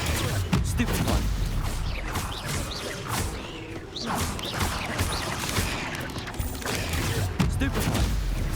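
Rapid bursts of magical spellcasting in the video game Hogwarts Legacy, with repeated Stupefy stun spells firing as dense crackling blasts and impacts layered over continuous battle noise, loud and busy throughout.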